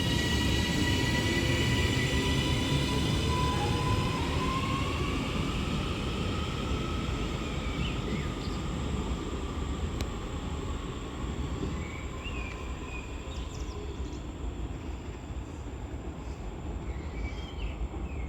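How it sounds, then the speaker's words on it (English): A double-headed Northern Class 331 electric train pulls away from Deansgate station, its traction motors whining and rising in pitch over a loud, steady broadband rumble that eases slightly as it leaves. "that Northern double-headed 331's heading down to its next stop"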